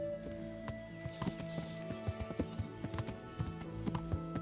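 Horse hooves clip-clop in steady rhythm in the medieval video game Kingdom Come: Deliverance, with a possible faint whinny, over sustained in-game music.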